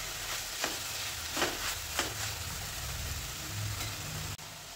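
Soaked soya chunks fry in a pan for a brown rice vegetable pulao, giving a steady close sizzle with a few stirring taps before it cuts off abruptly near the end.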